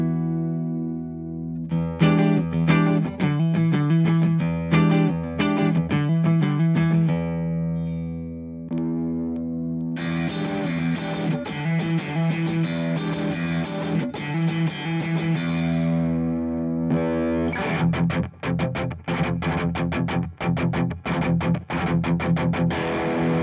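Electric guitar on a clean tone, picked with a Planet Waves Black Ice 1.5 mm extra heavy pick: loud, close riffs with sustained ringing chords, rapid picked notes and short pauses between phrases.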